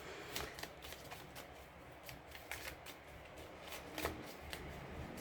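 Tarot cards being shuffled by hand, a close, soft run of rapid riffling flicks and papery slaps in quick irregular bursts, with no talking.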